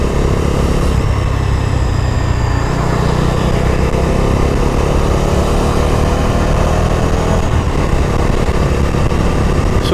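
A Bajaj Dominar 250 motorcycle runs loud and close, its engine drone carrying a buzzing rattle from the fuel tank, with revs rising and falling steadily throughout and no talk.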